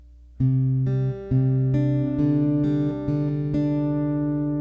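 Acoustic guitar notes from a song plucked one after another, each ringing on and overlapping into a sustained chord, at a slow, even pace and close up.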